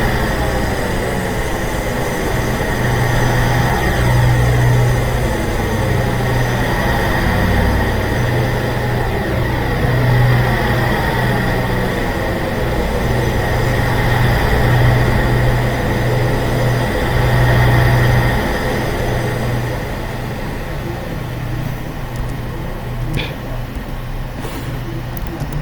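A British passenger train rolling slowly toward Bournemouth, heard from on board as a steady low engine drone with a rumbling hum and faint rhythmic clatter, continuous and fairly loud for the whole stretch.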